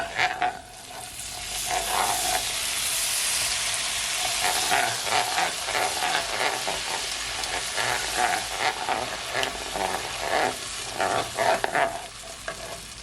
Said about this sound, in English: now that it is all sauté, I'm gonna add my ginger beer